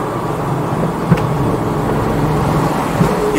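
Inside a moving Lamborghini, a steady low engine and road rumble fills the cabin at moderate level, broken by a couple of faint knocks, with no talking.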